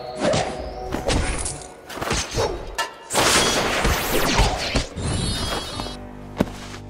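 Combat effects in an ancient-style fantasy audio drama as an elder leaps down to strike: loud thuds, crashing smashes and swooshing whooshes in rapid succession, ending in a single sharp hit.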